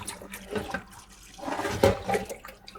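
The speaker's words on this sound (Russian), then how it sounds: "Затем хорошенько прополаскиваю в проточной воде, пока вода не станет совсем прозрачной." Beef tripe rinsed by hand under running tap water in a kitchen, with uneven bursts of close splashing and gushing water.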